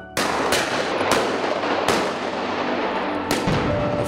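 Shots ring out during mounted shooting on horseback, an Old West–style sport: several loud, sharp cracks spaced about a second apart over steady, heavy background noise, with no clear voices.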